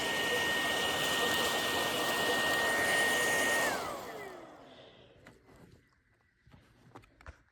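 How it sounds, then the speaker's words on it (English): Hoover WindTunnel OnePowr Emerge cordless vacuum running in handheld mode gives a loud, steady whirring whine for several seconds, then spins down, followed by faint clicks and handling noises. "Now basically yourself a hand vac. That's quite a bit of suction,"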